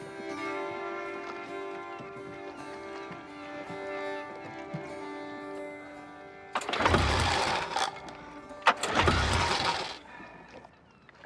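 Two bursts of a car engine cranking and sputtering without catching, each lasting about a second, after a quiet stretch with a steady background tone.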